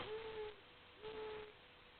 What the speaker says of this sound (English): I hate owls. They make so much noise.